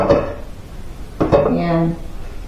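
A new frying pan set down on a kitchen surface to dry after washing, giving two brief metallic clanks about a second apart, the second ringing on faintly, close by and alone.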